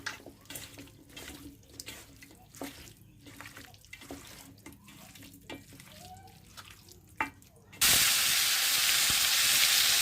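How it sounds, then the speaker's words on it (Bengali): Oil heating in a kadai for a chicken curry: soft scattered clinks and taps give way near the end to a sudden loud, steady sizzling hiss that continues to the close. "ওপাশে আমার কড়াইতে কিন্তু তেল গরম হচ্ছে"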